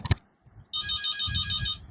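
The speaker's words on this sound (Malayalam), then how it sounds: "ഒരു ഫോൺ വന്നിട്ട് കേട്ടാ." A short thump, then an electronic phone ringtone starts and plays a repeating warbling melody, loud and close, with no talking.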